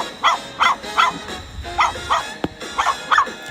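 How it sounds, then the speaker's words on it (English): Dogs behind a house barking in alarm at someone walking past, a run of eight or so sharp mid-distance barks in uneven pairs and groups, with a brief knock partway through. "Or if you walk past a certain house, the faithful friends sound the alarm."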